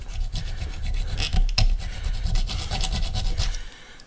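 A Leatherman file rasps a small burr off a TVR Speed Six cylinder head part, producing steady, close scraping strokes that run continuously for several seconds with no talk.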